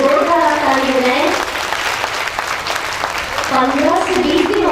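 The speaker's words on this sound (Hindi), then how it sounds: "जोरदार आप ताली बजाएं।" An audience at a Brahmakumaris stress-relief camp claps in a loud burst of mixed applause, bracketed by a voice speaking over it at the start and end.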